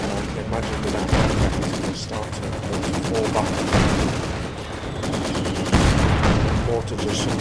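Heavy machine gun fire in the Company of Heroes 2 strategy game comes in rapid, dense bursts layered with other battlefield gunfire and thumps, with a voice faintly underneath.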